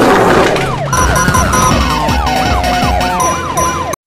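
A wailing police-style siren from a video game police car sweeps up and down repeatedly over engine rumble, loud and close, with a synthetic game-like quality.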